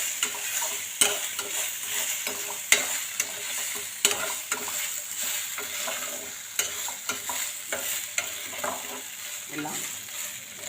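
Ganesh's favourite snack sizzles and crackles steadily as it fries in a pan, with sharp clicks of a spoon stirring and scraping throughout; no talking.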